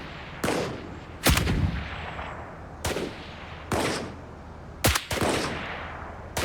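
Gunfire in the Roblox game BRM5 comes as about six sharp, loud single shots spaced irregularly, each with a short echoing tail and no talking between them.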